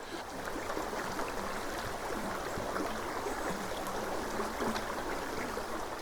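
A river flows far below a green valley viewpoint, a steady, soft, even rush of water with no pauses or other sounds.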